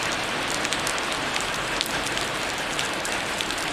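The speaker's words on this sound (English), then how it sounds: "It's rainy season here right now, so these showers are pretty frequent and sometimes quite heavy and long," A tropical rainy-season shower on Koh Samui comes down steadily, a dense, even hiss of rain hitting surfaces with scattered sharper drip taps, close and continuous with no voices.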